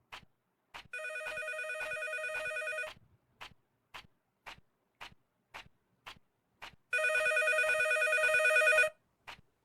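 A telephone rings in the video game Fading Father: two long electronic ring bursts separated by a quiet gap, with soft regular ticking clicks running throughout.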